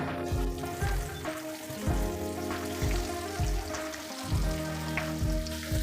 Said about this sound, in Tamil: இப்போ நம்ம வந்துட்டு நம்மளோட ப்ரெட் எல்லாத்தையுமே ஃப்ரை பண்ணி எடுத்துக்கலாம்